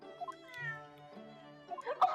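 A cat in the video game The Great Ace Attorney lets out a couple of clear, close meows, with a brief sharper sound at the end and no talking.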